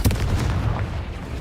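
Confringo fire spell from the video game Hogwarts Legacy exploding in a deep, rumbling burst with rolling low booms and crackle, loud and close and filling the whole moment.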